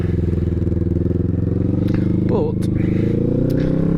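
A Kawasaki Vulcan S motorcycle engine drones steadily and loud while riding toward Bakewell, a constant low rumble with a brief shift in pitch midway, running under a rider's voice.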